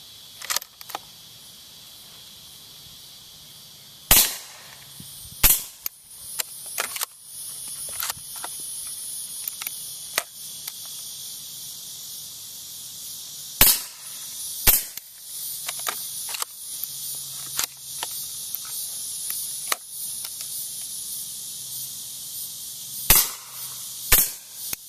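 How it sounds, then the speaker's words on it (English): Suppressed 300 Blackout subsonic gunshots from 16-inch barrels, fired through SilencerCo Octane 45 and Octane 9 suppressors, ring out as sharp, dry cracks at irregular intervals, some in quick pairs, over a faint hissing background. "now we're trying the Octane 45 against the 9mm Octane, both 300 blackout subsonic"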